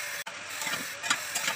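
Pumpkin flowers and potatoes sauté in a hot pan, giving a steady, close sizzling hiss that cuts out for a moment and then resumes.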